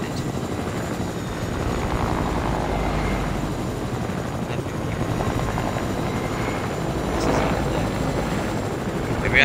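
A helicopter in a shooter video game, a constant whirring rotor drone with faint thumping that stays steady for the whole stretch, medium distance, with no talking.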